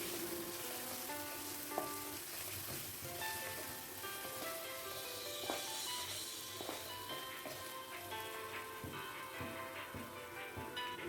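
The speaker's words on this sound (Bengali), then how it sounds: "সমস্ত মশলা দেওয়ার পর আবারও ভালোভাবে নাড়াচাড়া করে নিচ্ছি, ভালোভাবে কষিয়ে নিচ্ছি মশলাটাকে।" Spice paste with red chilli powder sizzles and crackles in hot oil while being stirred for a Bengali tilapia curry, a steady close frying hiss with occasional scraping taps.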